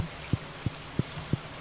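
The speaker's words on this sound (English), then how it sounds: "The valley looks more interesting in the rain, don't you think?" Steady rain falls across a video game valley, a constant wash of patter with a few soft, evenly spaced low thumps every third of a second or so; no talking.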